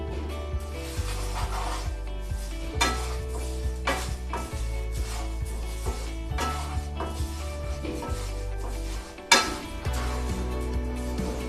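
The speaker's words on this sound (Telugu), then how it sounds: "ఇప్పుడు లైట్గా వేయించుకుంటాం" Vermicelli (semiya) being lightly fried in oil in a pan, with repeated scraping strokes of a spatula against the metal over a low steady hum, close and rhythmic, one sharper clatter near the end.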